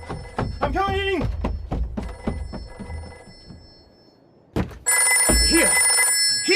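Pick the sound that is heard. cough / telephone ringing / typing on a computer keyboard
telephone ringing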